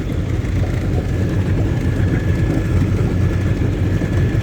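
Boat engine fitted with a rare Coffman exhaust runs steadily on the water, a close, loud, continuous low rumble with no breaks or voices.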